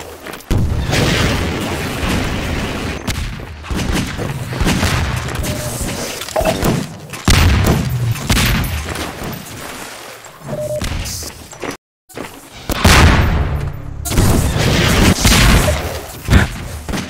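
RPG rockets explode again and again in Half-Life 2 Deathmatch, with loud, booming blasts and thuds recurring through a chaotic firefight and one brief drop to near silence partway through.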